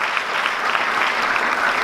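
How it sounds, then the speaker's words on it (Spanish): A church congregation claps steadily and densely for a couple of seconds, a continuous wash of applause from many hands. "Dale un aplauso al Señor."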